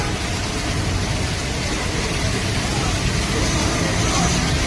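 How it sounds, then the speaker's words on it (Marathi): Heavy rain pours down as a loud, unbroken roar of dense hiss that stays even from start to finish, with no clear voices above it. "तुफान पाऊस"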